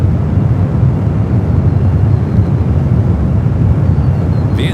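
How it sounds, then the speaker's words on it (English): British Airways Boeing 777-300ER from London Heathrow landing at San Francisco airport, a steady loud low jet roar with wind buffeting the microphone, no talk. "British Airways up next, the 777-300ER flight 287 coming in from London Heathrow"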